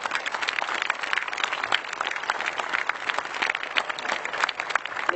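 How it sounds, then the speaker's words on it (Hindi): Audience applause at a Hindi poetry recital, a steady dense wash of many hands clapping at moderate distance, sustained evenly throughout with no voices on top. "अगर आप और सुनना चाहें तो जोरदार तालियां बजाएं।"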